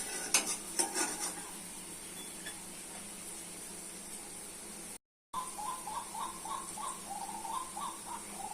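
Masoor dal bora fry in oil with a soft, low sizzle, opening with a burst of clattering stirs and utensil knocks, then a short dropout before the faint frying carries on with some tonal squeaks.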